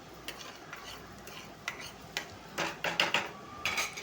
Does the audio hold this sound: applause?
no